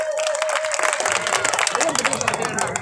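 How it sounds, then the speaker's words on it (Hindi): A crowd at a gathering at a Buddhist vihara breaks into applause for an honoured guest, with dense clapping that builds after a faint tone and continues for a couple of seconds. "जोरदार ताली बजाकर भी सम्मान दीजिए"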